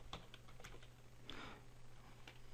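A computer keyboard is typed on in short, irregular bursts of light clicks during a Windows 7 installation, a few keystrokes spread over a couple of seconds under a low electrical hum, with no speech.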